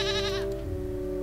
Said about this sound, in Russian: Так, коза.